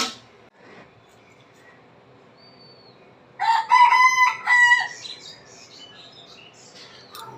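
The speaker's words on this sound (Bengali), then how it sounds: "আর এই যে মুরুক কুকুরু কুক ডাকতেছে" A rooster crows once at a moderate distance, a clear rising and falling call lasting over a second, with a few faint bird chirps in an otherwise quiet outdoor setting.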